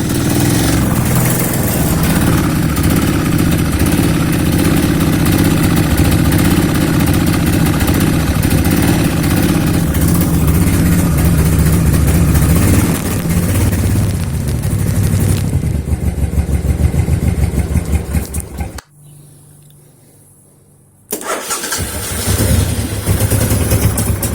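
A Suzuki Intruder 1500LC motorcycle engine idles loudly and steadily after a cold start without choke, a deep, even rumble that briefly dips to near silence before picking back up.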